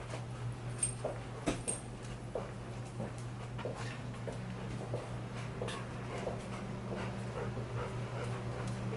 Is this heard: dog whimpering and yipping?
yes